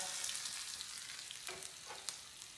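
Steady sizzling of sliced onion frying in hot coconut oil, a continuous crackle with a few sharper pops, close and fairly quiet, no voices.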